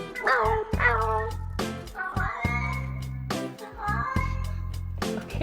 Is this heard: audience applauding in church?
no